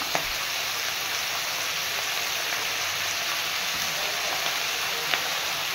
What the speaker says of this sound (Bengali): এবারে এক এক করে আলুটাকে আমি প্রায় 5 মিনিট মতো ভেজে নিলাম ভালো করে।